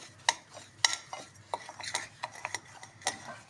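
A spoon scrapes and clinks against a bowl while semolina, oil and thyme are mixed for crispy two-egg crackers, with sharp irregular taps and rubbing strokes, close and alone.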